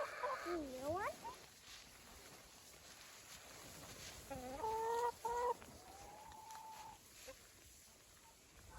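Chickens in a chicken house with deep litter, giving several close, rising clucks and a drawn-out squawk, separated by quiet stretches.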